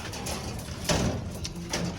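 Soft pigeon cooing close by, a few low murmuring calls against a steady background hiss with a faint clatter.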